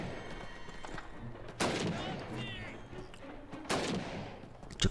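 Two loud, sharp gunshots or cannon blasts ring out in the PC video game Call of Duty 1 during a siege mission, each echoing and decaying amid faint battlefield noise.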